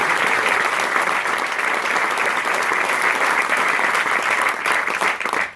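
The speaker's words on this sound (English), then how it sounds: "Let's give her a round of applause." A large audience at Bethel Woods gives loud, steady applause for Lieutenant Governor Kathy Hochul, a dense continuous roar of clapping that holds evenly before cutting off.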